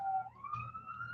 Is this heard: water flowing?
no